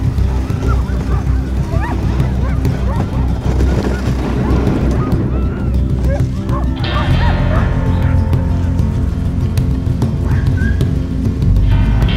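A pack of sled dogs before a long-distance race barks and yips excitedly and continuously nearby, with overlapping high yelps and howls forming a loud, dense chorus.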